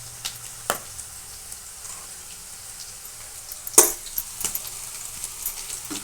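Ginger-garlic paste with coriander powder, chilli powder, turmeric, salt and garam masala frying in oil gives a soft, steady sizzle, broken by a few sharp clicks and scrapes of a stirring utensil against the pan.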